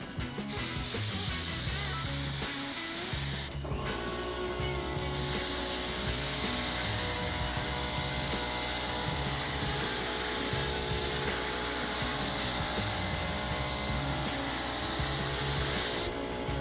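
A paint sprayer hisses steadily and loudly at close range over a cargo trailer being painted outdoors on a calm day. The hiss runs in long continuous passes, with one brief pause early on.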